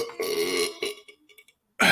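A loud, drawn-out vulgar burp, a deep guttural belch lasting most of a second, followed by a few shorter grunting bursts and a brief final belch.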